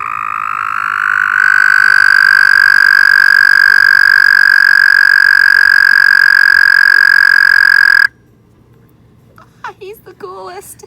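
A frog gives a loud, close, steady trill that holds for about seven seconds, then stops abruptly as voices begin talking.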